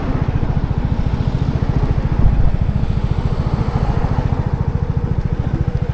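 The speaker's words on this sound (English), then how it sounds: "I quite like the sound of the exhaust actually, for a standard exhaust." A small Vespa scooter engine with a standard exhaust runs at a steady, fast putter, close and loud, with a rapid even pulse throughout.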